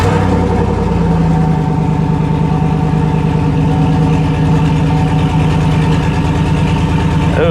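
A car with a sticky ignition and several warning lights on is fired up at a vehicle auction yard and settles into a loud, close, rough-running idle with a steady pulsing throb throughout.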